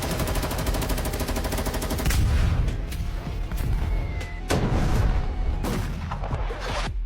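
Gunfire in battle: a rapid burst of machine-gun fire opens, followed by heavy booming shots and blasts at irregular intervals, loud and close.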